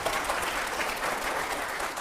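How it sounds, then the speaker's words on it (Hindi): A studio audience at a televised political debate breaks into loud, continuous applause, a dense, even wash of many hands clapping for about two seconds. "जोरदार तालियां हो जाए जरा एक बार"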